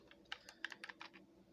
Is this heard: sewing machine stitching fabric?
no